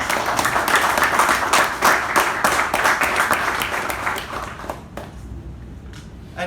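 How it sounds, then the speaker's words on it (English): Applause from a Toastmasters audience at an installation ceremony, a loud, dense clapping crowd that holds steady for about four seconds before tapering off into a few fading claps. "Let's give a nice round of applause for Toastmasters."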